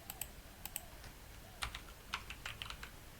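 Keys clatter on a computer keyboard in two bursts: a few quiet taps, then a quicker run of clicks, entering a web address while setting up a debugger in PyCharm for a Django app. Close and clear over faint room hiss, with no speech.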